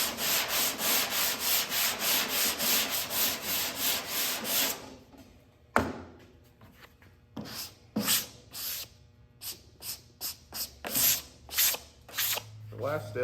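Hand sanding body filler over the filled sidemarker hole on a squarebody Chevy C10: a steady run of rhythmic back-and-forth rasping strokes, then sparser, irregular scrubbing bursts with pauses, close and fairly loud, with no talking.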